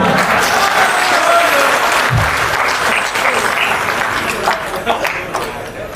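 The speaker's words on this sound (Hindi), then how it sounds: "बजाओ ताली ढंग से।" Loud, sustained applause from a large crowd at an evening patriotic gathering in Udaipur, a thick continuous wash of clapping that holds steady and fades a little toward the end.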